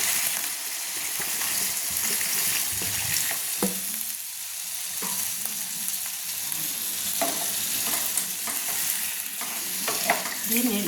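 A potato and pointed gourd curry sizzles loudly in a pan as water is added, a continuous close frying hiss with brief stirring scrapes and bursts of bubbling, no voices.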